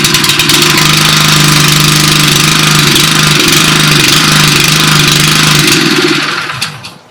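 A Westermann Honda WR870 moss brush with a Honda petrol engine, running loud and steady close by with a rough, buzzing drone that tapers away near the end.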